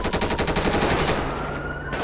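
Gunshots fired at a fleeing taxi's tires during a police chase on an interstate on-ramp ring out as a rapid burst of sharp cracks, loud and closely spaced over about two seconds.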